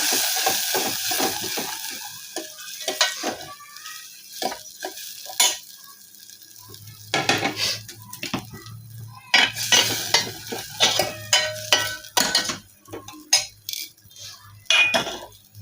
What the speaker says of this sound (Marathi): काश्मीरी लाल मिर्च, नमक, हळद छानपैकी परतून घेऊया